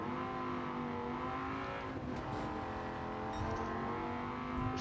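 Dodge Viper GSRT10 coupe engine racing on the Tokyo Expressway in Gran Turismo 7, a continuous sustained engine drone with layered harmonics and a brief dip and rise in pitch midway, steady and without speech.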